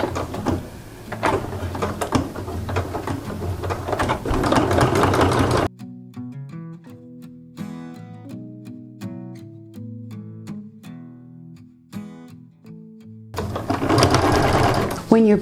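Sewing machine running in two bursts while zigzag top stitching sashings on quilt-as-you-go blocks with monofilament poly thread, a steady mechanical whir at the start and end with a quieter pause between.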